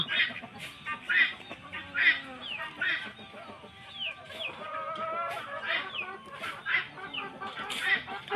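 Chickens clucking steadily on a farm, with a flock of busy, overlapping clucks and squawks close by, rising and falling in rhythm.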